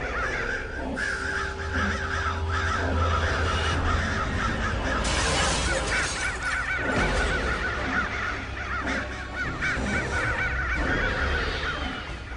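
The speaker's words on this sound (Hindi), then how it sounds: "इतना सारा कौवा उड़ रहा है" Many crows caw while flying overhead, a dense, continuous chorus of harsh calls that overlap without pause. It is loud and close, with no talking.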